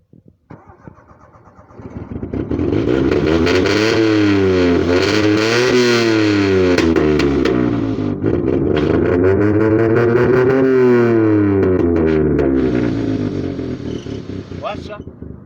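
A homemade car built in Swaziland cranks and catches about two seconds in, then its engine revs up and down again and again in loud, close, rising and falling sweeps that run to the end.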